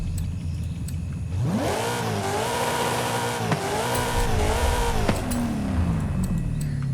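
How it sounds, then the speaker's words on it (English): A car engine revs up hard, climbing in pitch and holding at high revs for several seconds before dropping back down, loud and close with no talking. "I like to rev it just to play around with the noise"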